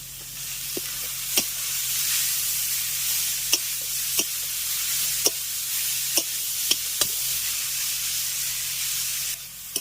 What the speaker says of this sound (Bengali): গাজর আর বিটটাকে ভালো করে একটু মেড়ে মিশিয়ে নিলাম